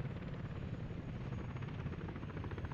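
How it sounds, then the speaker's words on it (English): Helicopter in the city-building game Workers & Resources: Soviet Republic, its rotor chop beating steadily and loudly throughout with a dense, rumbling drone and no talking. "We got a second chopper now coming."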